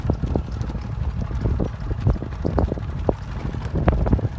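A mare's hooves clip-clop in a steady, fairly quick rhythm on open ground, close and clear, with light wind noise in the background.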